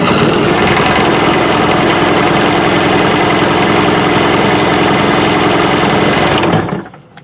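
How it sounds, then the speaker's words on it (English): A jet ski engine is test fired and roars loudly and steadily at close range for several seconds, then cuts off abruptly and leaves quiet behind. "I'm going to do a test fire. I don't want to let it run for too long, just a few seconds."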